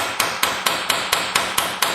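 A hammer strikes a socket in a steady rhythm while loosening a part on a Meyer E-60 snow plow pump, nine sharp ringing blows close up, each leaving a brief metallic decay.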